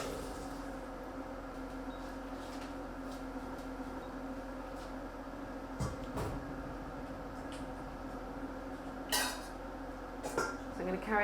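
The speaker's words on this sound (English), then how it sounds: "I'm going to put a colander in the sink with a bowl underneath it" Pots and a colander clatter in a kitchen sink over a steady background hum, with a few sharp clanks near the middle and end.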